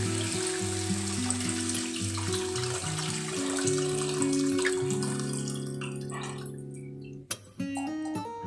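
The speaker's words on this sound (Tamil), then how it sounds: "புளி கரைசலை ஆட் பண்ணிடலாம்" Tamarind water poured into a pot of tomato rasam as a continuous close liquid stream, settling into bubbling with a brief clink near the end.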